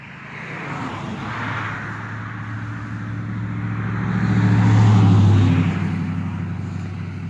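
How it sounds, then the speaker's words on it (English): A car passes close by a home garden, a broad road rumble that swells to a peak near the end and then fades, heard alone without talking. "here comes another car"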